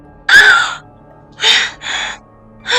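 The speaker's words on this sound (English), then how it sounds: "Suddenly, you gasp for air and lurch out of bed." A sharp, breathy gasp for air on waking from a nightmare, followed by two quicker, shorter ragged breaths and another starting at the end, close and alone.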